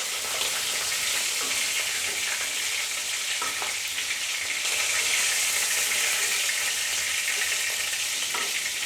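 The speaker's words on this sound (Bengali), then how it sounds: "বন্ধুরা, এই মাছটা ভাজা হয়ে গেছে" Pieces of boal fish fry in hot oil with a loud, continuous hissing sizzle. Scattered crackles and pops run through the sizzle at a steady level for the whole span.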